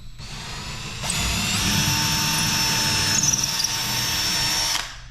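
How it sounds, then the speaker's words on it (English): A power drill bores into a drywall stud while a homemade shelf is being mounted, giving one loud, steady whine that lasts about four seconds and is heard alone. "I'm gonna drill this real quick."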